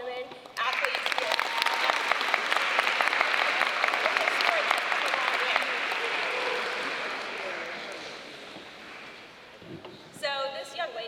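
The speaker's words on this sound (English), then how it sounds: "So a big round of applause to all the women athletes here." A crowd at a school signing day breaks into loud applause for women athletes, sharp dense clapping that swells then gradually fades, followed by brief talk near the end.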